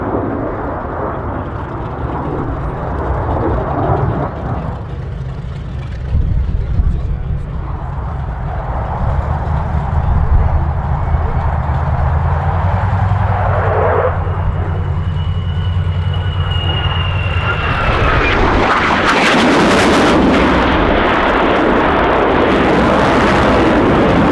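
An F/A-18 Hornet fighter jet flies overhead at an air show display. It makes a loud, continuous roar that swells, dips briefly, then builds into a harsh, intense blast as it passes close.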